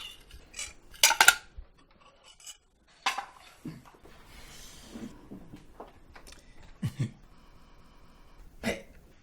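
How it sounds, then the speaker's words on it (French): Dishes being washed, with sporadic clinks and clatters of cutlery and pots in a quiet room, a few sharp knocks separated by soft rubbing and splashing sounds. "Il vaut mieux que j'aille faire ma vaisselle."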